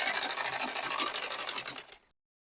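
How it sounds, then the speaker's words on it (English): A sewing machine runs close by as it stitches along the edge of an elastic band, with a fast, even run of needle strokes for about two seconds before it stops. "place it on your machine. First of all, stitch on the edge"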